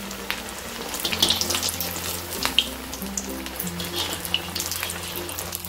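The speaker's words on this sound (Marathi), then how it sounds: "हे बघा असं छान गोल्डन कलर वरती आपण तळतोय." Rava medu vada, crisp semolina fritters, sizzle and bubble steadily as they fry golden in hot oil, with a close, continuous crackle and occasional faint kitchen clatter.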